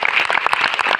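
Loud, dense clapping from an audience gathered for a business presentation, a short burst of many hands at once with no voices over it.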